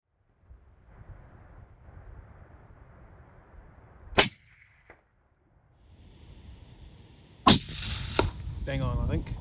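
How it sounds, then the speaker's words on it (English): A rifle confirmation shot fired during a Lambert River tahr hunt cracks loudly against quiet outdoor ambience, preceded by an earlier sharp report, followed by metallic handling noises and a voice. "So we did a confirmation shot."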